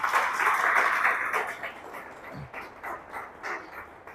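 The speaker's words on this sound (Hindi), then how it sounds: "मनोज सर के लिए जोरदार तालियां हो जाए एक बार." An audience at an agency launch event for Manoj Tek Business claps for Manoj sir, a dense burst of applause that swells and then thins into scattered claps and crowd noise.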